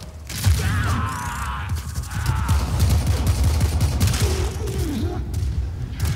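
Gunfire and explosive booms from the video game Warframe, with a dense fusillade of shots rolling continuously throughout alongside electronic tones, while a voice talks underneath.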